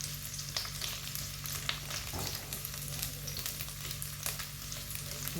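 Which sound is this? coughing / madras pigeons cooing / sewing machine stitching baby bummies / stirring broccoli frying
stirring broccoli frying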